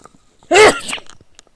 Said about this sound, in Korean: 재채기가 나와가지고